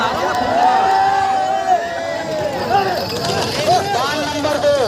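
A large outdoor crowd at a bullock cart race final, a continuous loud hubbub of voices and shouts from spectators gathered around the field, with people talking and calling out throughout.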